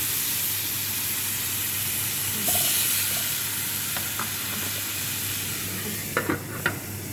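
Oil sizzles steadily in a cooking pot as meat is prepared for moong dal khichuri, a constant hiss with faint clinks and stirring taps near the end.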